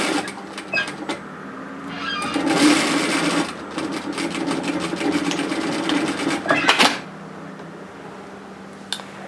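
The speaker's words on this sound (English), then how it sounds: "we're going to sew a seam at 1 centimetre" Close by, a sewing machine stitches a 1 centimetre seam on a puff sleeve top, starting and speeding into a rapid rattling run, then stopping, with fabric handling sounds around it.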